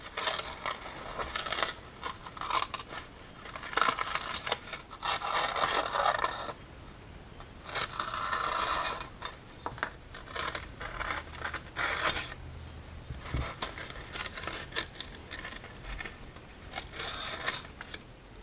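The brittle paper spider being worked loose from the speaker of a 91-year-old GE A-70 radio: close, irregular scraping, crackling and small clicking bursts with pauses in between, no talking.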